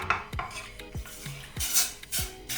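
A saucepan and metal utensils clatter while a Japanese udon soup stock of water, mirin, soy sauce and vegetable cube is prepared, giving several sharp close knocks and clinks in a loose rhythm with no talking.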